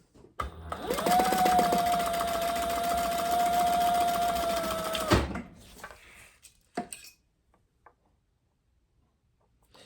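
Sewing machine top stitching a leather wallet, one steady whirring run of about four seconds that stops abruptly, followed by a few faint clicks and handling sounds before quiet.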